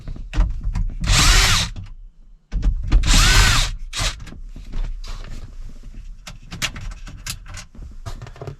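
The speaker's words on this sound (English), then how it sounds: "We're going to be removing 4 more screws, 2 on each side of the radio, and again we're going to be using our 9/32 socket." A power drill fitted with a 9/32 socket removes the radio screws from a Ford Super Duty truck dash, with loud close whirring bursts separated by pauses and small rattles.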